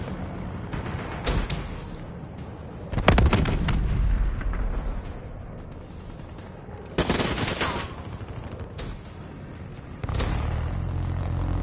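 Hellstorm missile strikes in Call of Duty: Black Ops 3 hardcore domination land as repeated loud explosive bursts amid rattling gunfire, several heavy blasts spaced seconds apart over a continuous battle din.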